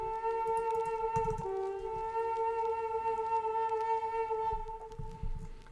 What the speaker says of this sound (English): I came in with this Dukuk tenor, if that's how you say it, which sounds like this.